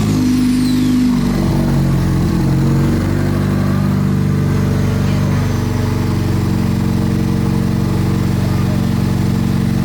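A loud, steady engine rumble with a deep exhaust drone from an exhaust about three feet long runs throughout, shifting slightly in pitch as it idles and revs.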